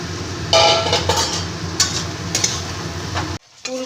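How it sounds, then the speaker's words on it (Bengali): A masala with fried cauliflower and potato, for a ghugni, is stir-fried in a pan, with a moderate sizzle under repeated scraping and clinking of a spatula against the metal, then a brief pause. "ভেজে রাখা ফুলকপি আর আলুটা দিয়ে মশলাটা ভালো করে আবার কষিয়ে নেব"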